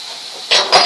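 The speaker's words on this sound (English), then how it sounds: "A nice sizzle, just like you're at Chili's" Onions and peppers for fajitas sizzle in a hot pan, a loud close hiss that swells in two bursts over a steady frying crackle, with no talk.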